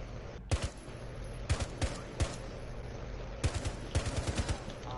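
Video game gunfire, sharp shots in quick bursts and rapid strings, moderately near, with a brief pause between volleys and no talk.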